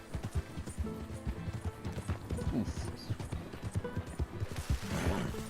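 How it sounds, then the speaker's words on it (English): Galloping horse in Red Dead Redemption 2: fast, rhythmic hoofbeats thud steadily throughout, with game sound effects layered on top and a brief spoken exclamation. "My horse is pretty fast, so it's gonna be easy."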